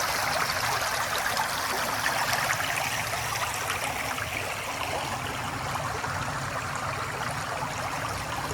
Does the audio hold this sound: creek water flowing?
yes